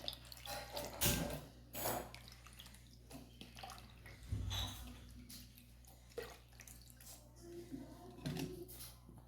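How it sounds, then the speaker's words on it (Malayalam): Water is poured into a pot of cut green plantain pieces, making intermittent close splashes and trickles with a few louder gushes. "വെള്ളം ഒഴിച്ച്"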